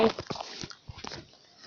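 Dogs in a video game set in a city, with a few short barks and yaps in a quick irregular burst, close and fairly soft.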